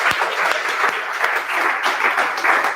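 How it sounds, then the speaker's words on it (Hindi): Loud audience clapping at a motivational talk for students, a full, close crowd of hands with slight surges and a few sharper individual claps standing out, sustained with no speech over it. "एक बार ताली मारिए एकदम जोरदार एकदम।"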